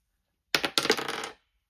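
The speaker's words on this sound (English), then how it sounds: "I roll a dice" A single die tossed during a cash stuffing challenge game, giving a brief, close clattering tumble of about a second that rattles and bounces before stopping, with no voices.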